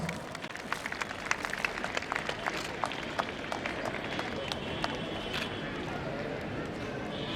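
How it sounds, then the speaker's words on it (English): Audience applause welcomes guests at a school annual function, a thin, steady patter of claps heard at a distance under a constant background hum. "Please do welcome them with a huge round of applause."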